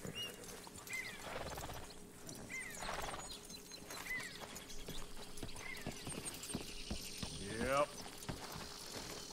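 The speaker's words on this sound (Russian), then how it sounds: "Фига себе, лошадь." A large horse ridden by Arthur in Red Dead Redemption 2 clip-clops along in a steady walking rhythm, its hoofbeats sitting under continuous talking from a person throughout.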